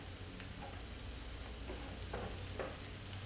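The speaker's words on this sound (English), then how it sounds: "So now I can hear the onions getting fried." Green chilies and onions frying in a pan for an Oriya potato-poppy-seed dish, giving a steady low sizzle with faint stirring scrapes, no talking.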